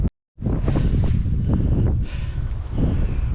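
Strong wind buffets a microphone outdoors during a bike ride, a loud continuous rumble that starts after a brief silent gap and persists to the end.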